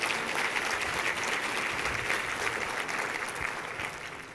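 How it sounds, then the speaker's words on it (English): A business symposium audience applauds in a steady, full wash of clapping from a crowd that fades slightly at the end, with no voices over it. "give the Chamber a round of applause for bringing us together for this event"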